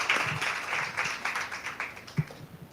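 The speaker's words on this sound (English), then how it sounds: "Can we please clap our hands as he comes forward?" Audience at a book launch clapping their hands, a moderate, fairly faint round of applause with scattered claps that thins out toward the end.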